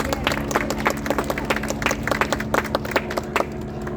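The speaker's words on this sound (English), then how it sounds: "Sheriff Luna, please, a big round of applause" An audience applauding steadily, dense rapid clapping from a crowd filling the whole stretch.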